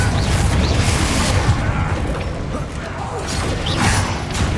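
A Bombarda spell blast from Hogwarts Legacy booms amid dense, continuous game noise, with rumbling mechanical clatter and a fresh swell of impact near the end.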